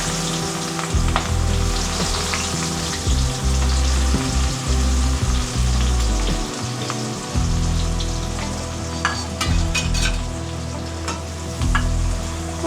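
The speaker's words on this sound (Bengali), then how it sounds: "তো মাছ ভাজার তেলেই আমি পেঁয়াজগুলো দিয়ে দিচ্ছি" Onions frying in oil left over from frying rohu fish in a wok make a loud, continuous crackling sizzle, broken now and then by stirring scrapes, heard up close with no speech.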